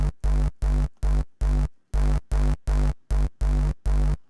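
Reese bass synth patch programmed in Reason 8, with a mid cut around 1.5 kHz and slightly trimmed highs, playing a choppy rhythmic pattern of thick, buzzy low notes, each short hit fading and regularly spaced.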